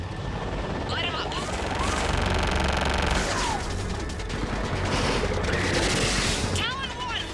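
Aircraft weapons fire on ground targets in Mass Effect 3, a loud sustained barrage under a constant engine roar and radio chatter, with dense rattling bursts throughout.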